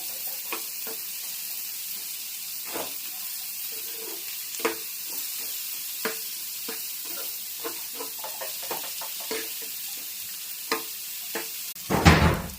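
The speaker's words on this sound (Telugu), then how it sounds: "ఆనియన్స్ కూడా గోల్డెన్ కలర్లోకి వచ్చేదాకా వేగించుకోవాలి." Onions fry in hot oil with green chillies in a pan, a steady close sizzle broken by scattered scraping stirs, ending in a louder burst near the end.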